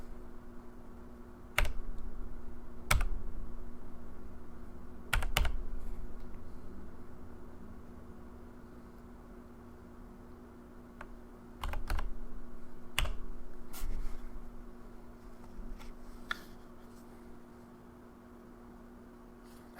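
Someone types a number on a computer keyboard: scattered, sharp key clicks in small bursts and single taps, close and fairly quiet, over a faint steady hum with no voices.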